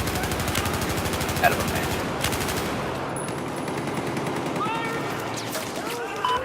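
Rapid M249 machine-gun fire in a video game, dense rattling bursts that continue for several seconds and then taper into scattered shots, with someone talking over it.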